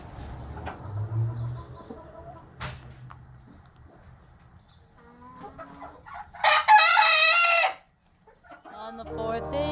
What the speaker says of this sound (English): French hen